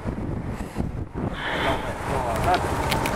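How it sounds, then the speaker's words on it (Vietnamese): Strong wind gusting at an outdoor fishing spot on a cold day, a steady loud rush with buffeting against the microphone throughout. "Gió nó thổi nữa."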